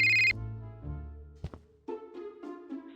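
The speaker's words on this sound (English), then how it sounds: "when a phone suddenly starts ringing" A telephone rings briefly and loudly in the Scott Whiskers adventure video game, cut off after a moment and followed by soft thuds and quiet tonal game sounds.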